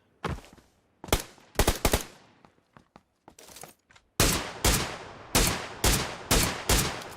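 Gunfire in the battle royale game PUBG Lite comes as sharp, loud bursts and single shots, first scattered and uneven, then a rapid run of heavy, evenly spaced reports close by.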